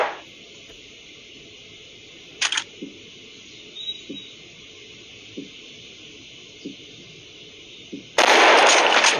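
A single loud sniper rifle shot in the mobile hunting game Hunting Sniper bursts out near the end, preceded by a sharp click and several faint, evenly spaced ticks over a quiet hum.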